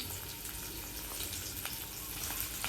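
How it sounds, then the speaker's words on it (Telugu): Finely chopped garlic fries in oil with a faint, steady crackle and sizzle and occasional tiny pops, all quiet and continuous with no speech. "వెల్లుల్లి ఇట్లా సన్నగా తరుక్కుని వేయించుకోవాలన్నమాట"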